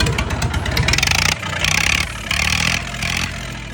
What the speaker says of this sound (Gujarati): તો કરવી આપણે મસ્ટેંગને ચાલુ પહેલાં.